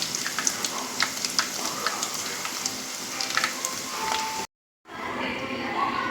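Paal paniyaram frying in hot oil gives a steady crackling sizzle with scattered pops, moderately close and fairly quiet, broken by a brief silent gap near the end before the sizzling resumes.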